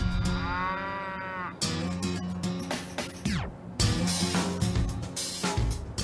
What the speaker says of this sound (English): we're going to meet the prize-winning herd of longhorn cattle, an entire paddock of clones.